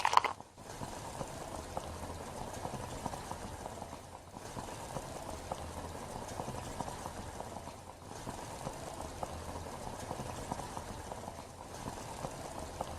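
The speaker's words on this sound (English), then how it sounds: "As magnesium is added to hot water, hydrogen gas bubbles up furiously." Magnesium reacting in hot water, with hydrogen gas bubbling up vigorously as a steady, fizzing boil that holds at an even level for the whole stretch, with no voices.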